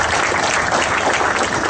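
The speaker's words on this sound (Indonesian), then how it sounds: "Tepuk tangan untuk Mas Agus yang luar biasa" Loud, dense applause from a large audience at a cultural gathering, continuous clapping that stays strong and unbroken for the whole short stretch.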